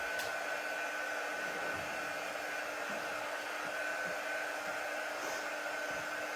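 Steady, close hair dryer blowing air over a painted craft tote, a constant whooshing hum that stays level throughout with no talking.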